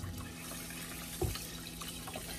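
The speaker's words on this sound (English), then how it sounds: "So we're gonna add our water in." Water pours steadily into a rice cooker pot, about four and a half cups for plain white rice, a soft, quiet liquid stream with one brief splash partway through.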